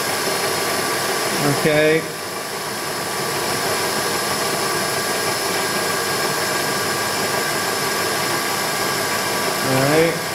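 A Bridgeport milling machine spins at 1400 RPM with an edge finder, giving a steady motor whine and hum throughout, while a person speaks briefly near the start and end.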